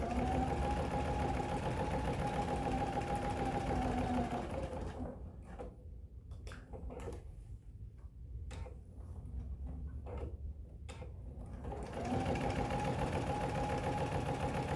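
A sewing machine runs a long basting stitch to attach a pocket to a cross-body bag, a close rapid mechanical whir that pauses for several seconds of faint clicks and handling before resuming.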